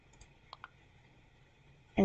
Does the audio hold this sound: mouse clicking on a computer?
yes